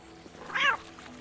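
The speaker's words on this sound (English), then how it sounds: "Kitty appears." A cat meows once in the Postal 2 video game, a short, clear mew of under a second that rises above a low background of game ambience.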